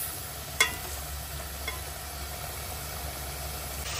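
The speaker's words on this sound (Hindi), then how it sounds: "तो अब ये थोड़ा सा फिर से इसको भून रही हूँ," Biryani masala with dry coriander being roasted and stirred in a pot: a faint, steady low sizzle with a low hum underneath and one sharp utensil tap early on.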